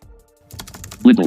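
A few soft clicks from a computer keyboard as a website name is typed, followed by a louder voice speaking close by.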